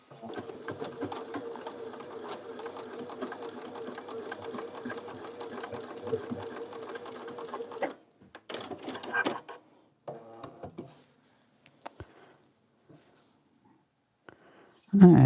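A sewing machine runs a quick practice stitch in one steady, even whir for about eight seconds, then stops; a few scattered clicks and handling knocks follow in a quiet room.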